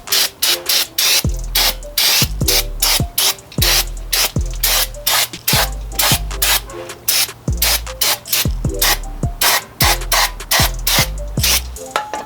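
Repeated short hissing sprays from an aerosol can of brake cleaner onto a Lexus IS300 wheel hub assembly, bursts of a second or so with brief pauses, close and loud, plus some rubbing and handling noises.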